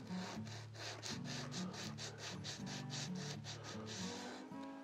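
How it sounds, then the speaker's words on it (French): A nail file lightly smooths a pink ivory wood bridge for a classical Torres-style guitar, making a quiet, close, rhythmic rasping of quick back-and-forth strokes. "Et on nettoie léger à la lime à ongles."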